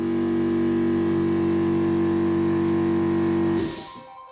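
A 2001 VW Beetle 1.6 petrol 8-valve engine idles with a steady, loud, humming drone, a slight bearing noise in it, then quickly winds down and stops near the end.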